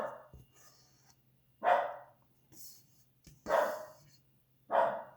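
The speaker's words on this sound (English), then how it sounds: "He just likes to bark." A household dog barks in a kitchen, four short sharp barks spaced a second or so apart with quiet gaps between, close and fairly loud, no talking.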